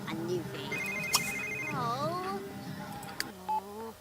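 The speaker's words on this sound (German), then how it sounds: "Telefon." A telephone rings in the video game The Sims 3 with short electronic ringtone bursts, brief beeps and game music, partly under German-speaking voices.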